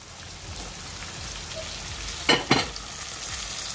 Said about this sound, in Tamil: கருவேப்பிலை எல்லாம் வதக்குங்க.